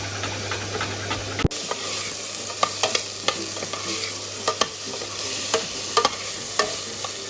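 Onions sautéing in a pan for pumpkin caviar, a steady close sizzle and hiss with occasional stirring clicks and scrapes throughout, no talking.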